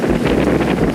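Wind on a windy outdoor day buffeting a microphone, a steady low roar with no voices.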